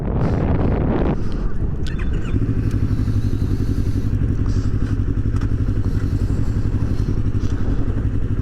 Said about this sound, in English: first time riding a sport bike ever